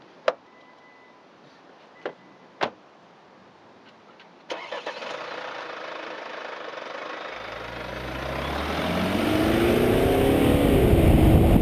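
An Infiniti Q50 with a 2.2-litre inline-four diesel is started, opening with a few clicks and a door thud before the engine cranks and catches, then settles into a loud, steady, slightly rising idle drone.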